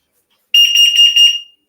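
A toy dolls house alarm gives a loud, shrill electronic squeal in rapid pulsing bursts, starting abruptly after a moment of silence and lasting about a second before cutting off.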